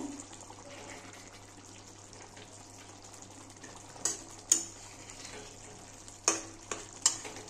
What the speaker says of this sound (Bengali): এবার সামান্য একটু আস্তে করে নেড়ে দেব